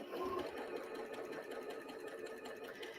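A sewing machine stitches pieced quilt block fabric at a quarter-inch seam, a continuous close mechanical whir with rapid needle clatter, steady and unbroken without talk.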